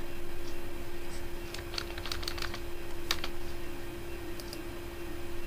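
Quick bursts of keystrokes on a computer keyboard while entering text into a spreadsheet, close and fairly soft, in irregular clusters over a steady electrical hum, with no talking.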